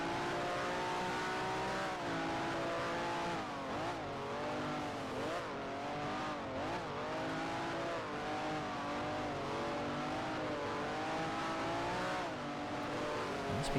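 Race cars in the sim racing game Grand Prix Legends lap a track, their engines droning loud and steady with rising and falling pitch as they accelerate and shift, several cars close together throughout.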